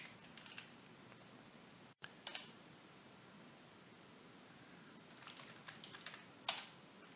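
Bursts of typing on a computer keyboard while entering a BASIC program on a C256 computer, quick clusters of soft key clicks with pauses between, close and fairly quiet, with one sharper click near the end.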